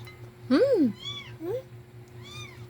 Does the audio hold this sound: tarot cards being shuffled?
no